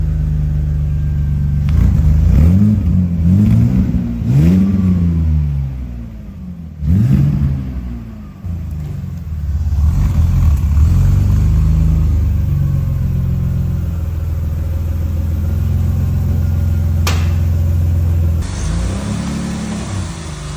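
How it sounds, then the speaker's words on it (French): A BMW E30's engine idles and revs in repeated rising and falling sweeps, loud and close, with a steady low drone and no talk. "La voiture est plus silencieuse qu'elle ne l'a jamais été."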